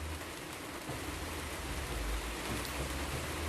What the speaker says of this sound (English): Oh, the rain's really coming down now.